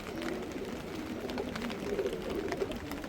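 A female pigeon kept at a home loft coos softly and faintly in low repeated notes against a quiet background hiss.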